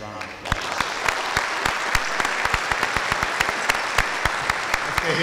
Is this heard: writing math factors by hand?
no